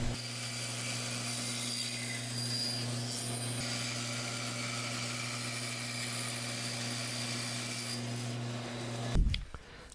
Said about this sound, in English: I've moved over to the bandsaw and I'm cutting out the board through those holes